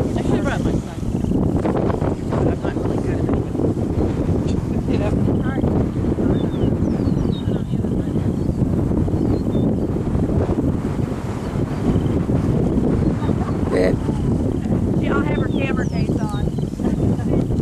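Strong outdoor wind buffets the microphone in a constant loud low rumble, with a person talking intermittently underneath.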